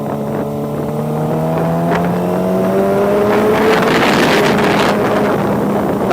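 A Kawasaki ZX25R motorcycle with a Scorpion RP1GP titanium carbon exhaust roars on a night ride, its engine note climbing steadily through the revs under constant wind rush, loud and close.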